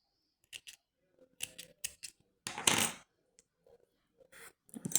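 Scissors snip through crochet yarn in a handful of crisp, close cuts, separated by short pauses in an otherwise quiet room, with one longer rasping cut in the middle.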